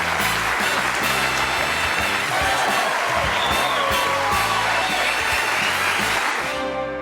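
Studio audience on The Johnny Carson Show in 1984 giving dense, sustained applause with scattered cheers and whoops, loud and continuous throughout and fading slightly at the end.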